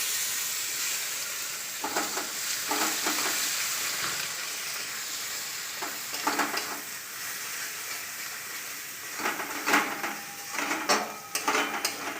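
Mustard paste sizzles in a pan with a constant frying hiss, broken by several scrapes and stirring clatters of a utensil against metal.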